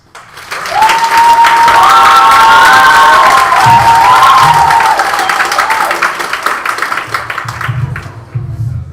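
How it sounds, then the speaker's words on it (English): Loud applause and cheering rise quickly from a crowd at a Model United Nations closing ceremony, with a sustained shrill whoop or whistle above the clapping, then the clapping continues and gradually thins toward the end. "Please give her a warm round of applause"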